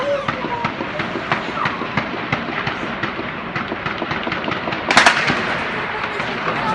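Explosions go off near the İzmir courthouse: a series of sharp bangs and rumbles, with one louder, closer blast near the end, amid shouting and talk.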